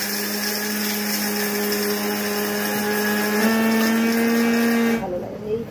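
A small mixer grinder jar whirs steadily, grinding garam masala spices, then cuts off near the end; a voice talks over it.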